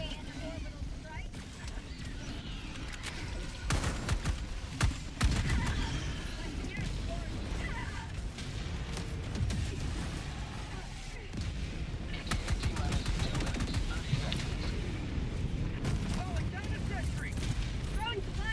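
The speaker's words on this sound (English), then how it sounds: "Firing orbital barrage." Orbital barrage strikes in the Helldivers 2 game: a dense run of booming, rumbling blasts and crackling gunfire that rolls on continuously, with a voice talking over the battle.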